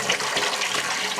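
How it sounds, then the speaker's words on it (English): Hot water runs steadily from the tap into a deep utility sink, a continuous broadband rush and splash that stays loud and even throughout, with no voices. "I'm just going to turn on the hot water"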